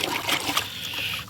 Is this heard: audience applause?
no